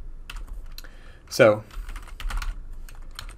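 Keystrokes tapping on a computer keyboard while code is typed out, a scattered run of light clicks with one louder burst midway, close and fairly quiet, alongside a brief spoken word.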